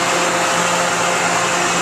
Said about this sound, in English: That's the fan and the compressor kicking in.